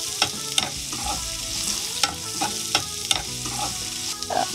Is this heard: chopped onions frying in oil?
yes